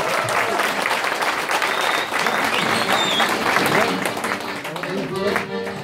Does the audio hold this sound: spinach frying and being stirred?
no